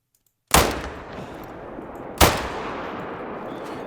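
Two sharp, loud Quist repeater rifle shots in theHunter: Call of the Wild, spaced about two seconds apart, each followed by a long, rolling echo fading into outdoor ambience.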